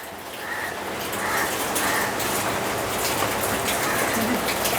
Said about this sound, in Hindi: ये बारिश तो अब रुकेगी नहीं, ये कल की तरह अब शुरू हो गई पूरे दिन के लिए।